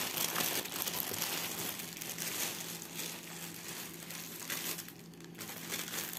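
Plastic wrapping on a cross stitch package crinkles and rustles steadily as the parcel is opened, close-up and fairly quiet, with no talk.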